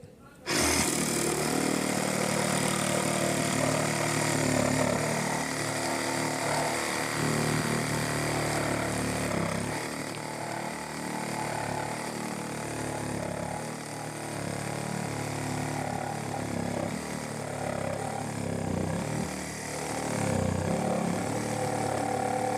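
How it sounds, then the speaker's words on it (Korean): A DeWalt DCS367 cordless reciprocating saw with a 9-inch blade cuts through earth-retaining timber about 85 by 150 mm, a loud, close, continuous buzzing rasp that holds steady for the whole stretch and varies slightly in pitch. "요 9인치 톱날로 어, 썰어 제끼는 영상입니다"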